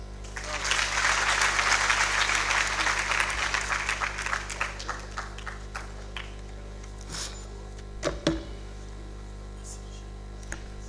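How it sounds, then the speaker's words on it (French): Audience applause for a speaker at a Senegalese youth-empowerment opening ceremony, a dense burst of clapping that swells, then thins out into scattered claps and a few isolated knocks as the room settles. "Vos applaudissements encore pour M. Diagne"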